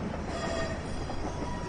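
Locomotive rolling along rails during a storm in Train Simulator: a steady, dense rumble and hiss of wheels and wind with faint tonal squeal, continuous and even, with no voices.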